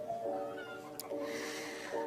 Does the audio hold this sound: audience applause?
no